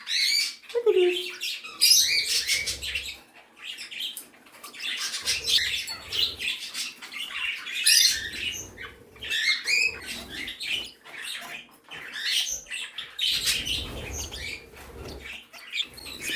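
Three budgies and a canary bathing together, a busy mix of chirps, squawks and wing flutters with splashing patter, close and continuous throughout.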